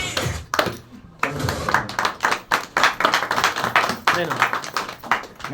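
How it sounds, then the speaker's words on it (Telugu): An audience claps in irregular bursts during a Christmas gathering, mixed with voices and speech throughout. "ఇంకా చప్పట్లు కొట్టు"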